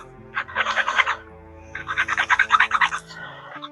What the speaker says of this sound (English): get a little sander tool and sand down the bottoms